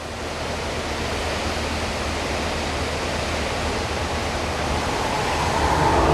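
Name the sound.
Bridal Veil Falls waterfall in North Carolina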